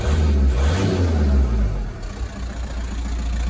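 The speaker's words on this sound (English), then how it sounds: "Engine sounds nice and quiet for a diesel." A car engine idles steadily with a low, rumbling diesel clatter, close by and fairly loud, with no talking.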